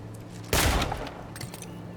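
A single loud gunshot blast bursts out in the Avowed video game, a sharp crack followed by a brief rumbling tail, with quieter game ambience and faint clinks before and after.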